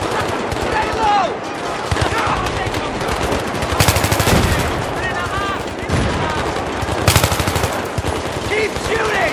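Battlefield 3 gunfire: sustained rapid machine-gun bursts and heavier shots crackle continuously and loudly, with voices shouting over the combat.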